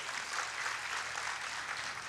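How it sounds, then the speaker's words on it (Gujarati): Audience clapping at a crowded spiritual festival gathering in Surat, a steady dense wash of applause holding even and fairly loud for about two seconds with no voices over it. "એકવાર તમારા માટે જોરદાર તાળીઓ પાડો"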